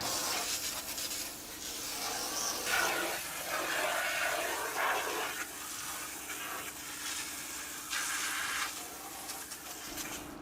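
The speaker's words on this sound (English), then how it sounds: "Evan, give this a nice, solid rinse" Water spray rinsing a house exterior, a broad rushing hiss that swells and eases in uneven bursts as the stream moves across the surface, fairly close and steady.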